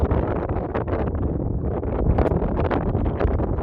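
Strong wind on the open fells buffeting the microphone, a continuous loud roaring rush with gusty fluctuations and no talk.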